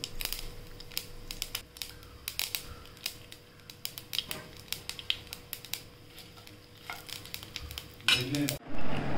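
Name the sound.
mustard seeds crackling in hot oil for tempering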